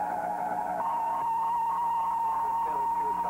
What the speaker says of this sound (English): What you have is you have many tones happening at the same time